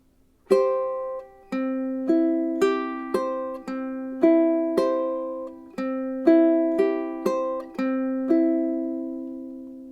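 Plucked ukulele notes in a steady alternating fingerpicking pattern, each note ringing bright and clear before the next, close and moderately loud.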